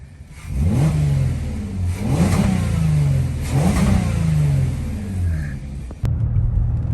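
Three strong revs from a VW Atlas VR6 engine with a modified OEM airbox, each swelling with a deep intake growl and falling back, ending with a sharp click near the end.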